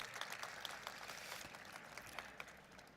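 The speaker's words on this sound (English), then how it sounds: "Let's give them a massive round of applause." Audience clapping at an evening budget dialogue event, a moderate crowd's applause, steady and somewhat distant, holding evenly for a few seconds.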